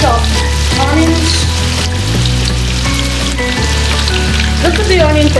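Chopped onions and onion paste fry together for a Bengali-style mutton curry. A loud, close, continuous sizzle runs under steady tonal background music.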